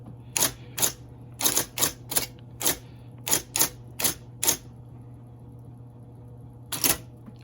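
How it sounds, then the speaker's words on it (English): Keys on an IBM keyboard hooked up to an iPad are typed in uneven bursts, about a dozen crisp, loud mechanical clacks close by, then a pause before a last pair of strokes. "let me just go ahead and type here"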